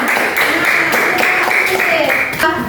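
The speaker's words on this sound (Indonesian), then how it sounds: "Tepuk tangan" Classroom of students clapping hands together after a presentation, a fairly loud, dense patter of claps close by, with voices mixed in and a brief spoken phrase near the end.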